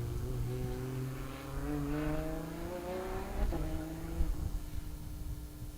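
A drag race car at Raceway Park drives past in the Gambler event, its engine tone climbing in pitch from a moderate distance, with crowd noise and a couple of thumps underneath.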